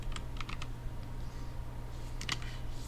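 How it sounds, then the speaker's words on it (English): Keys on a computer keyboard clack in scattered short bursts of typing, close and fairly soft over a steady low hum. "Sorry, it's my keyboard."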